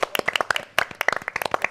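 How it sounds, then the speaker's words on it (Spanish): A small studio audience on a lunchtime TV talk show claps loudly and close, with sharp, distinct hand claps in a quick, uneven patter. "Te mandamos este beso con este aplauso"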